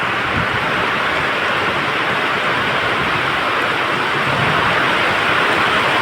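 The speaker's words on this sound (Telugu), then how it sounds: "చాలా భయంకరంగా కురుస్తున్నటువంటి వర్షం" Dense, loud rain pours down in a continuous roar during a train journey, steady and unbroken throughout.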